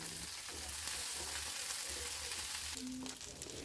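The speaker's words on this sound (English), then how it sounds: "Next add the previously cut bhindi or lady's finger. Add salt according to your taste and fry it very well." Cut okra (lady's finger) fries in a pan with black cumin seed and salt, giving a soft, steady sizzle and crackle with occasional stirring scrapes, faint and continuous throughout.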